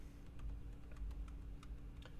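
Quiet clicking of keys on a computer keyboard, a short run of irregular taps over a low background hum.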